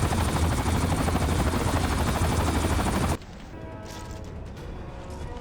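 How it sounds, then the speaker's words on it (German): Helicopter rotor roar from the video game Ghost Recon Advanced Warfighter 2, loud and steady for about three seconds, then dropping abruptly to a quieter, distant drone with faint game effects. "Ein Heli im Nacken."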